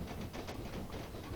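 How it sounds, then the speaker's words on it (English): A steam train, a 7F class locomotive on the Somerset and Dorset line, departing Broadstone railway station in Dorset, heard as a faint, steady rumble with soft rhythmic clatter from a distance. "Departing Broadstone at 8:39 is the first southbound train off the Somerset and Dorset from Templecombe."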